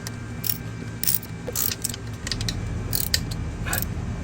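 A pool pump fitting on an Aqua Shield pump is tightened down, with a series of quick ratcheting clicks in short bursts close to the microphone over a low steady hum.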